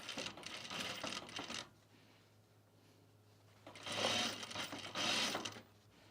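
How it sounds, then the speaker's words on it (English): A sewing machine worked slowly by hand wheel over a zipper coil chain while sewing a travel bag, giving soft mechanical clicks and ticks in two brief bursts separated by a quieter pause, close by with no talking. "use your hand wheel and turn your wheel towards you, stitch by stitch."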